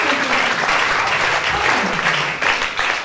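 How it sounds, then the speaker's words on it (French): Congregation applauding during a church service, a steady dense wash of clapping throughout, with faint tonal voices or music just beneath. "Put your hands together, praise for Jesus."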